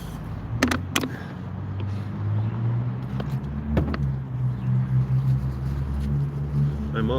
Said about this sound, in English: Occasionally cars are passing